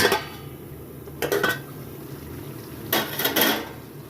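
A lid clatters twice as it is lifted off a pot of simmering mutton kosha: two short metallic knocks and scrapes, close by, over a low kitchen background.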